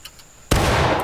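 A single loud musket shot in the War of Rights game, a sudden close crack that swells into a sustained rolling boom after a brief quiet lead-in.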